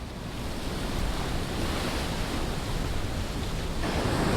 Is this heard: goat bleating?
no